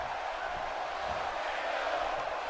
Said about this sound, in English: The crowd cheering for Orton here